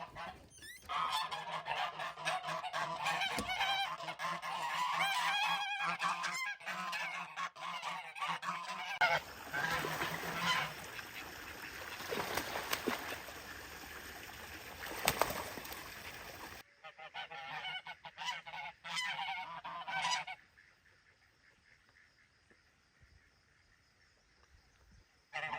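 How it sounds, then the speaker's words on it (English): Geese on a small farm in Ontario, Canada, honking and squawking close by in repeated loud, harsh calls, several birds overlapping, with outdoor background noise and a quieter stretch near the end. "let's get the geese out because they're squawking."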